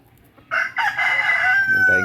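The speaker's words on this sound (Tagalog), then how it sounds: "Ay, mga manok dito guys." A rooster in a backyard gives one loud, close crow that rises and then holds, and other chickens cluck faintly around it.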